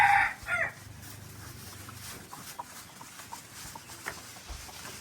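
Chickens cluck and a rooster crows at a roadside stop in a Thai national park along a motorbike route from Bangkok to Chiang Mai. A loud crow comes first, followed by faint scattered clucking over steady outdoor background noise.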